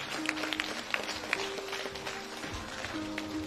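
An audience applauds at a creative evening honoring Taras Duka. Steady, fairly close clapping runs throughout, with a few sharper claps standing out and a faint tonal hum underneath.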